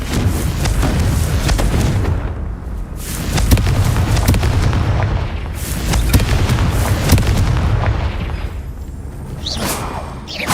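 Repeated Confringo fire-spell explosions in the wizarding game Hogwarts Legacy, loud booming blasts with whooshing bursts that roll on one after another over ten seconds, forming a continuous heavy barrage.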